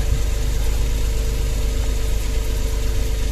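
Suzuki K6A engine idling steadily, close and loud, a constant low rumble with even vibration and no speech.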